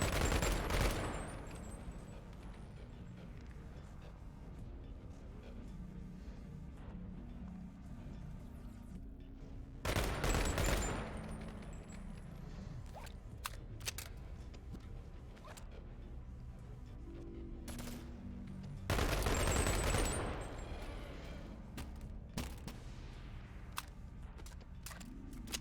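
Weapon firing in Bonelab, three loud blasts spaced roughly ten seconds apart, each with a sharp onset and a long rumbling tail, plus scattered faint clicks and clatter between; no talk.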